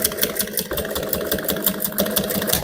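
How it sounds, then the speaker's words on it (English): A sewing machine whirs steadily and close, with a rapid stitching rattle, while bust cup caging is sewn into a garment. "we're going to put it in here and then sew"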